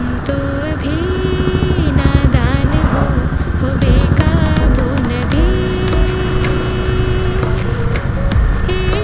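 A rental motorcycle for a Himalayan trip near Manali idles and revs loudly up close, its engine note rising and falling with steady mechanical hum and clatter.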